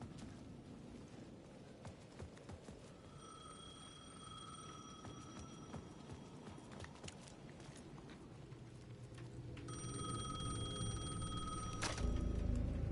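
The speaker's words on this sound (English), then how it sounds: "The payphone at the edge of the plaza was ringing again." A payphone rings at the edge of a plaza in Alan Wake II, two bursts of electronic ringing under a low, rumbling ambient drone that swells toward the end.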